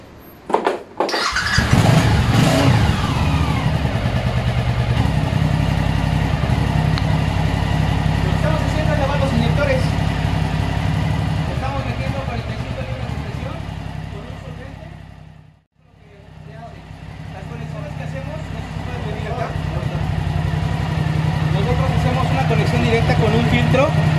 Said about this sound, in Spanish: Ahora vamos a arrancar la motocicleta.